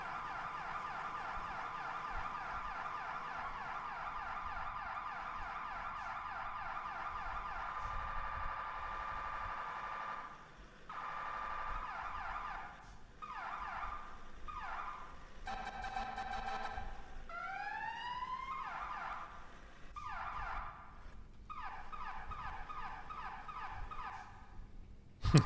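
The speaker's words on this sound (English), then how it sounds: "So only certain fire vehicles actually have that Q siren." Fire engine sirens wail and yelp in the video game EmergeNYC: fast warbling electronic tones alternate with rising whoops and brief pauses, a steady loud cycle over low rumble.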